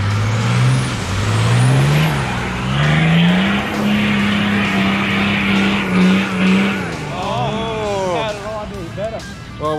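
An off-road vehicle churns through a mud hole at a muddy track in Redmond, Washington, its engine droning and rising steadily under continuous talk, with splashing and tire noise throughout.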